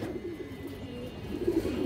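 A female pigeon coos quietly among other pigeons, the low throaty call swelling near the end over a constant murmur of background noise.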